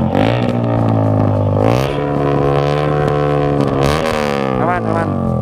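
Motorcycle engine revving hard as the bike crosses a river, a loud sustained roar with rising and falling pitch, joined by people shouting and talking over it throughout.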